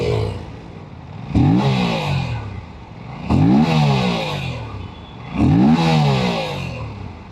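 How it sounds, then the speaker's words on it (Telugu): Aprilia RS 457 motorcycle exhaust revving hard three times in succession, each sharp rising blip falling away before the next, close and loud with no talk. "సో బైక్ స్టార్ట్ చేసిన వెంటనే దీని యొక్క ఎగ్జాస్ట్ సౌండ్ అనేది ఒక వీట్ లాగా వస్తుంది"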